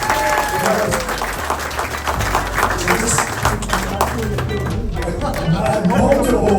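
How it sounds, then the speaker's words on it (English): Audience applause for Mansour at a community event on local issues, steady clapping from a crowd with chatter and voices mixed in throughout, fairly loud and sustained. "I want to give another round of applause for Mansour"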